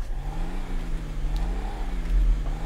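Compound turbo diesel Chevy Suburban in the video game GTA 5, its engine droning steadily with a slight rise and fall in pitch, a rev that builds modestly toward the end, heard close and alone.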